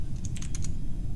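Quick bursts of computer keyboard typing during an Among Us game, a handful of crisp clicks clustered in an uneven rhythm over a steady low background hum.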